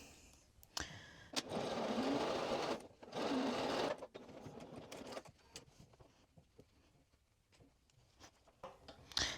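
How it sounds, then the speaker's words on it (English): A sewing machine runs two steady bursts of stitching along a pant side seam at a 3/8 inch allowance, close and fairly quiet, followed by softer handling clicks and fabric rustling. "I'm just going to sew this at 3/8 of an inch seam allowance"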